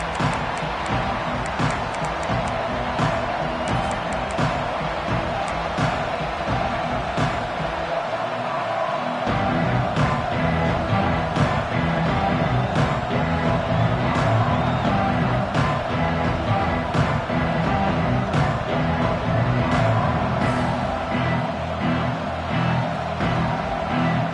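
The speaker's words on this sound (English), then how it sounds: "Listen to the crowd energy here in the early going." A dense stadium crowd at an American football game roars continuously just after kickoff, a broad steady wash of cheering and noise with no break in intensity.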